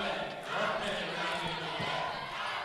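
Home basketball crowd at Carver gym chanting during a women's college game, a dense, steady roar of many voices filling the arena with a few faint thuds beneath.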